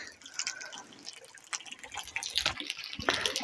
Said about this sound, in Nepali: यहाँनिर पानी आउँदैछ ट्याङ्कीमा